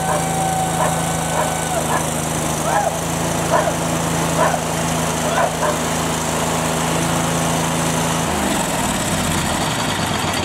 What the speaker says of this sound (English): Now we're ready to fire it up.